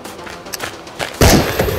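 A shotgun fires in the VR shooter Into the Radius, one heavy, close blast bursting in after a stretch of quieter muffled game noise, then ringing on loudly to the end.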